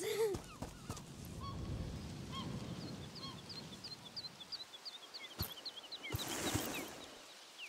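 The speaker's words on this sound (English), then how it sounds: "Seagulls!" Seagulls calling in the video game A Plague Tale: Requiem, a string of short, repeated cries over a busy outdoor ambience with rustling and thuds, moderately loud and continuing for several seconds.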